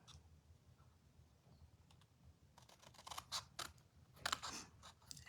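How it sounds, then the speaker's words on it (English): Scissors snip along a score line in cardstock while a Halloween treat box is assembled, starting with a few faint clicks and building into a run of close, crisp cuts over the last half. "we're going to cut up on our score line to that score line"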